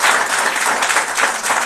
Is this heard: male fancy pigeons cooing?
no